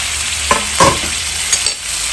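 Grated coconut is stirred and roasted in a kadai, a soft, steady sizzle broken by several sharp scrapes and clinks of the spoon against the pan, close and clear.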